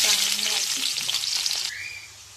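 Onion hitting hot oil for a crab curry, a loud close burst of sizzling that holds and then fades toward the end.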